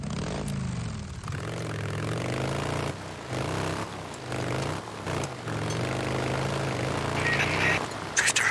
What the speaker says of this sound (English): One of our helos is heading towards your position now